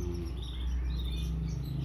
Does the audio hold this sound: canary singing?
yes